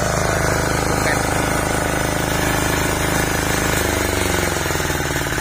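A Kubota T30 agricultural spray drone runs its motors at a loud, steady drone with a dense throbbing buzz that continues unbroken throughout.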